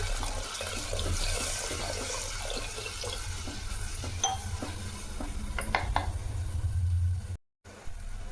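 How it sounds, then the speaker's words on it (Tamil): Water is added to sautéed tomato and onion in a pan while making egg kurma, with splashing and clinking utensil sounds over a steady low hum, followed by a brief silence near the end. "கொஞ்சமாக தண்ணி சேர்த்துக்கலாம்"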